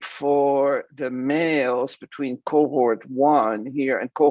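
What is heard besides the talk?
No everyday noises stand out.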